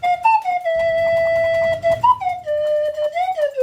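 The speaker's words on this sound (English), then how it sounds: "Slide whistle." A slide whistle plays a tune, holding long airy tones joined by quick upward and downward glides, loud and close, with a low rumble underneath for a stretch.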